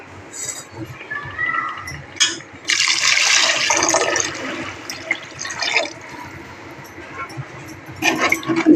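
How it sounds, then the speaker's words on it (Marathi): Water is poured into a large pot of village-style misal curry, a loud splashing rush in bursts amid kitchen clatter, with no talking. "आता याच्यात आपल्याला पाणी टाकायचं"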